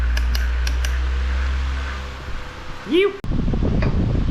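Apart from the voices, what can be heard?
electric fan switched on and running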